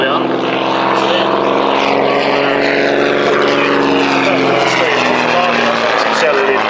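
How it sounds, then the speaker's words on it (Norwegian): A six-cylinder piston aircraft engine at an airshow drones loudly and steadily throughout, its propeller hum strong and continuous, with a voice talking over it. "Flymaskinen er en 6-sylindret motor igjen"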